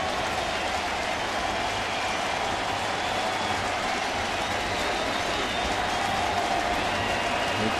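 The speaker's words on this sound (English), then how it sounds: "Here comes the crowd again." Big baseball stadium crowd cheering for the Cardinals during a Washington at St. Louis game, a dense continuous roar with clapping that holds steady throughout, with a faint voice somewhere in the mix.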